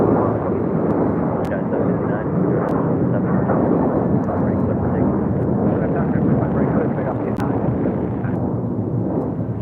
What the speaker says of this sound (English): That was Spirit 184 taking off to Cleveland on an A321